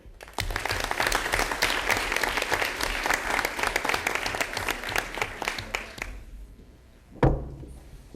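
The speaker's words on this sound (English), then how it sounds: "A big round of applause for our third grade tag students at Mill Lake School." Third grade gifted students at Mill Lake School receive a loud round of applause at a township board of education meeting, dense clapping for about six seconds that thins out, followed by a single sharp knock.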